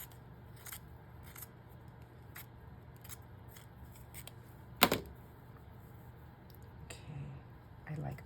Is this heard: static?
no